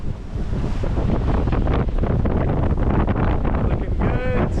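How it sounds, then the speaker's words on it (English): Strong wind buffets a heeled sailboat under full sail off the Caribbean coast between Dominica and Martinique, a continuous loud roaring rush with water wash, close to the microphone. "feeling a little wind, full of wind"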